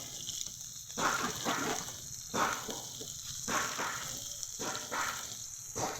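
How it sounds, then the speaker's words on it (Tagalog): Steady sizzling and crackling of fish frying in hot oil, close by, with louder bursts of hissing swelling every second or so. "Prito ng isda."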